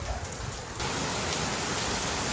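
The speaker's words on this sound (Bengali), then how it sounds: "বাহিরে শিলাবৃষ্টি হইতাছে আমাদের এখানে" A hailstorm outside, an unbroken dense patter and hiss of falling ice hitting surfaces, steady and close, growing a little louder partway through.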